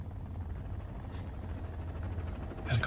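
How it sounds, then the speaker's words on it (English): A helicopter drones overhead in a zombie action film, a steady low rotor rumble with a faint high whine holding at an even level throughout. "真的有 helicopter 嘞"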